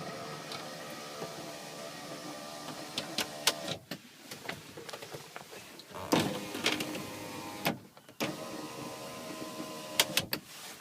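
An electric window motor in a VW Transporter T5 whirs in a steady, close drone, stopping and restarting several times with sharp clunks as the glass reaches the end of its travel.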